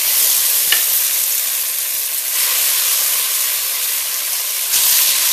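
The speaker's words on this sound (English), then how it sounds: "start adding the pieces of chicken to the pot at this point" Chicken pieces drop into a pot of caramelized sugar for a Caribbean chicken stew and fry with a loud, steady sizzle and hiss. A couple of sharper bursts rise as more pieces hit the hot pot.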